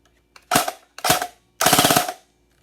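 An airsoft AUG rifle fires with no magazine loaded, first two single semi-auto cracks, then a short rapid full-auto burst of about seven rattling shots, close and sharp against a quiet background.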